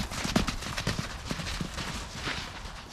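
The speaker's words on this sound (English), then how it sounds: "That's a fast horse." Horse hooves trotting quickly on the ground, a steady rhythmic clip-clop of close, fairly loud hoofbeats over faint background noise.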